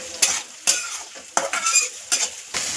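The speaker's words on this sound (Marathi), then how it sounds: "हे अंड फोडून घेतल्यावर आपण हे गॅस फास्ट करून हे सगळं परतून घेऊया अंडे व्यवस्थित पहिले त्या मसाल्यांमध्ये" Beaten eggs tossed and stir-fried in hot oil with spices for street-style egg rice, sharp sizzles and spatula scrapes against the pan in about six quick bursts, close and loud.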